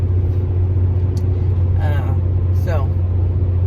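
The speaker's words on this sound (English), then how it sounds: "There goes a golden plate truck, letting them by us." A truck rumbles steadily nearby on the road, a low continuous drone with brief higher hisses as traffic moves past, while someone speaks over it.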